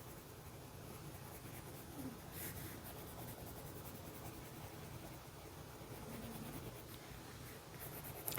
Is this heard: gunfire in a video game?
no